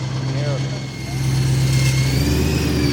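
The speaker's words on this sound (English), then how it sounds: "And in roughest shape of all, the engine. It's got some noises." A damaged BMW E92 M3 engine idles roughly with an uneven, knocking low drone and a brief rev, loud and close; a voice talks faintly over it.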